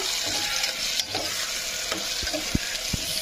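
Tomato pieces for tomato rice sizzle steadily in hot oil, with a continuous broadband hiss and a few soft scraping knocks from stirring near the end.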